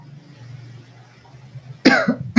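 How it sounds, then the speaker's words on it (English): A patient coughs during a doctor's examination for flu and cold: a quiet low hum first, then two sharp, loud, close coughs near the end. "Cough, please."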